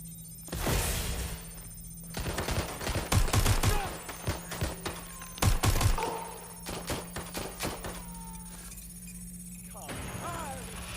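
Gunfire in the Watch Dogs Legion game, bursts of rapid sharp shots and impacts coming in clusters, loud and close, mixed with shattering hits, over a steady low game hum with a voice speaking.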